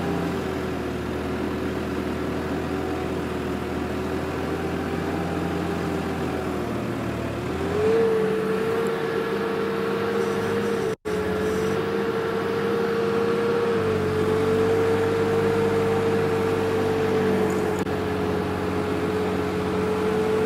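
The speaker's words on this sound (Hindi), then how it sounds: "काफ़ी सालों बाद आज अच्छा लग रहा है ट्रैक्टर को चलाते हुए।" A tractor engine runs steadily while being driven on a farm, a loud continuous drone with a steady hum that shifts pitch partway through, staying up close and alone without talk.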